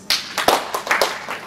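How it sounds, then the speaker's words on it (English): A sparse scatter of quick hand claps from a plenary session audience, a few individual claps spread over a second and a half rather than one unified clap. "So if you can hear me, clap once."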